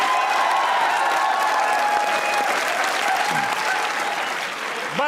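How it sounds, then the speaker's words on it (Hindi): Studio audience in Lahore applauds throughout for a comedy talk show guest, a dense, sustained wash of clapping with faint cheers, briefly easing near the end. "अगर नहीं भी जानते किसी को, तालियां बहुत बजाते हैं।"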